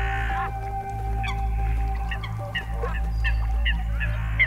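Eurasian coots call on shallow water in the Oder Delta, a series of short, sharp honking notes repeating irregularly over a steady low background hum.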